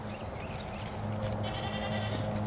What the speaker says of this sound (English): Bruno man, let's go feed some goats in Hercules.